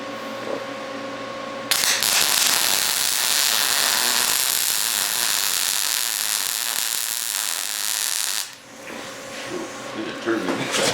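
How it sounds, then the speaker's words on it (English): A welder running a second pass over a weld seam on a Ford Bronco II project, a loud steady crackling hiss that starts sharply, holds for about seven seconds and cuts off, with quieter workshop noise around it. "I'm gonna run over this weld one more time, even though it looks good"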